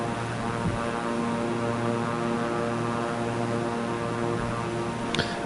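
A propeller airplane drones steadily in Microsoft Flight Simulator 2024 on PS5, flying toward the small airport at Graz, Austria. The engine makes a constant, even hum with no voices, and a brief click sounds near the end.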